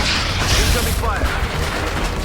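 Gunfire and booming impacts in the XCOM: Enemy Unknown video game, a loud, dense wash of shots and blasts filling the short stretch without pause.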